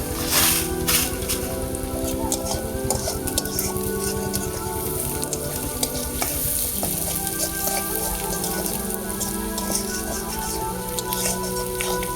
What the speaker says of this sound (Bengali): কড়াইতে পেঁয়াজ কুচি দিলাম পেঁয়াজ কুচিটা একটু ভাজা ভাজা করে নেবো